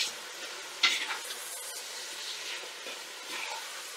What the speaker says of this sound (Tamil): லைட்டா கிளறி